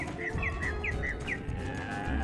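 A cow gives a short, fairly close moo with a few repeated tonal pulses over a steady farmyard background.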